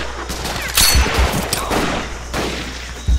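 Bursts of gunfire rattle through a World War II shooter video game, several sharp volleys close together with battle noise between them and no clear speech.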